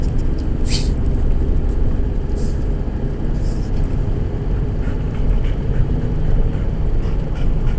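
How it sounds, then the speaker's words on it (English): Low, steady road drone from Chinese mud-terrain tires at highway speed in fourth gear, heard from inside a Subaru Justy, with broad rumble and occasional brief whooshes of passing traffic, no talk. "Who would have thought Chinese mud tires would be noisy on the highway?"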